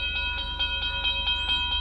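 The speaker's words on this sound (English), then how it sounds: "I stopped a car at a sleepy little junction just across the border into Oklahoma to let a train pass by." A train passes a quiet rural junction just across the border into Oklahoma, a steady near rumble with rhythmic wheel clatter and a sustained high whistle-like ring, loud and continuous with no talking.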